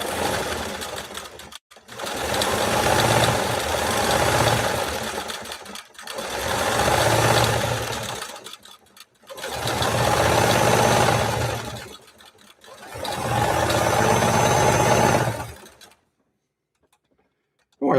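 A 1962 Singer 328K sewing machine runs through a decorative stitch in four long bursts of steady whirring and clatter, each a few seconds long, separated by brief pauses and ending in near silence.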